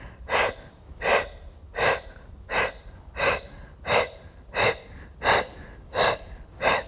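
Rapid rhythmic breath-of-fire yoga breathing, about ten forceful nasal exhales in a steady pulse, close and fairly loud with no talking.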